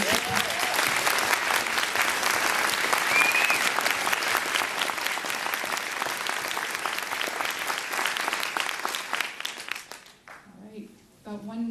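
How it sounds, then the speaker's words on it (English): A large crowd at a councillors forum claps loudly and steadily for about ten seconds, then the applause fades out and a voice begins speaking. "Let's give them all a big round of applause."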